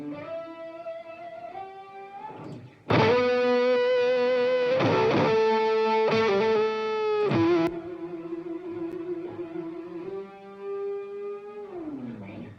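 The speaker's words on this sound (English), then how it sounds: "So the guitar verb you're going to hear sounds like this." Electric guitar runs through a roomy, bathroom-like reverb with a stereo imager widening it. Sustained melodic notes give way to loud, thick, ringing chords in the middle, then settle back to softer held tones that fade out.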